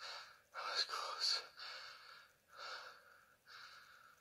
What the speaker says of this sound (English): The heavy breathing.